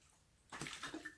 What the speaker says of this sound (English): Let me sip this water real quick.